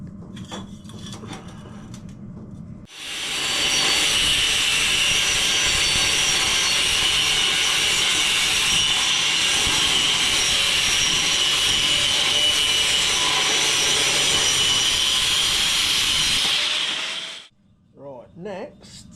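Steel exhaust tube being sawn or cut for a motorcycle silencer on an RM80, a steady loud rasping that runs continuously for about fourteen seconds before stopping, with brief workshop noises after.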